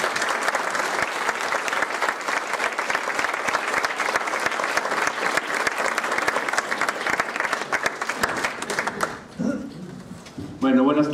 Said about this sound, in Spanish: ¿qué les parece si recibimos al chef Toño con un fuerte aplauso?